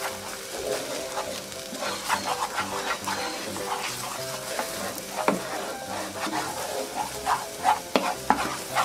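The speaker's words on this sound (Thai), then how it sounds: "แล้วก็ขยี้ไข่ให้แตกเหมือนข้าวผัดเลยนะคะ" Egg is broken up and stirred in a hot frying pan, with continuous sizzling and frequent scraping taps of a spatula against the pan throughout.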